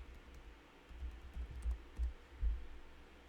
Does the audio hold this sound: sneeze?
no